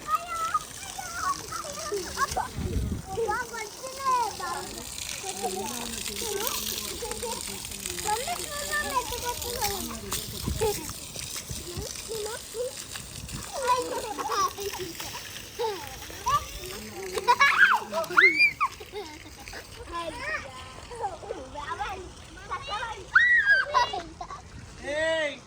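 Children play with water on a farm, splashing and calling out with lively kid voices and chatter throughout, broken by bursts of splashing and squeals; an adult voice also speaks.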